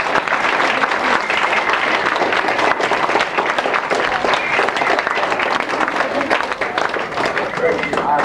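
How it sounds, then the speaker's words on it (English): Audience applause for Professor W. E. Nash at a lecture: loud, sustained, dense clapping from a full room that continues without pause across the whole stretch. "maybe you'd like to have a round of applause for him."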